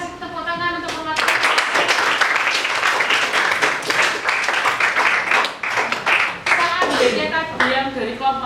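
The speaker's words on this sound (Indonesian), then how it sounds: "kita kasih tepuk tangan untuk Mas" A classroom group claps together for several seconds, dense and fairly loud, with voices briefly audible at the start and end.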